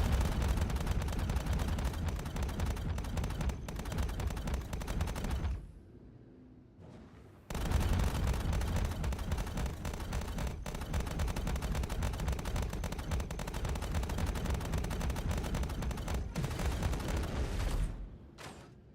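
Spaceship guns in a space combat video game fire long rapid bursts of loud, dense automatic shots, with a brief pause partway through before the barrage resumes, then a few final bursts.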